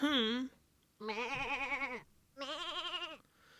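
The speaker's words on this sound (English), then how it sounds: "The sheep are terrified." Sheep bleat three times in an anime scene, each a loud, wavering, drawn-out cry with brief pauses between.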